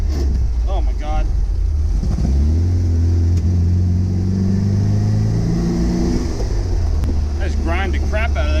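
A 1974.5 MGB, still cold and prone to backfiring, revs hard with engine pitch climbing and dropping through a gear change, rough grinding and rattling mixed in; a voice talks briefly over the loud engine.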